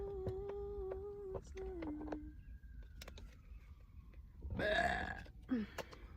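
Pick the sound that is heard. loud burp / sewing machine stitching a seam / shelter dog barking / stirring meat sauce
loud burp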